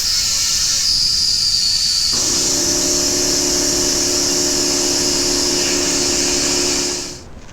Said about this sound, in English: If it touches, maybe air from the compressor will seat it.